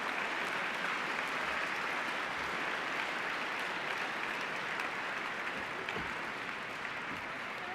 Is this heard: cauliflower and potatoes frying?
no